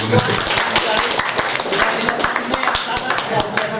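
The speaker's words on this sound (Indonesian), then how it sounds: "tepuk tangan" Audience at a village library talk show in Tarumajaya claps, a loud, close patter of many hands with a few sharper claps standing out, and some voices mixed faintly underneath.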